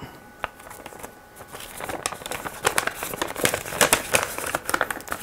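A paper envelope is handled and crumpled close up, producing soft rustling that builds into denser, sharper crinkling bursts over the last few seconds.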